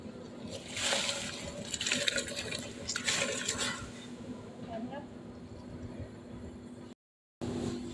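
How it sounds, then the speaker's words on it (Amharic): Water comes to a boil in a pot and bubbles with a soft, uneven burbling at moderate distance. A voice can be heard over it, and the sound cuts out briefly near the end. "ይኸው ውሃ እየፈላ ነው"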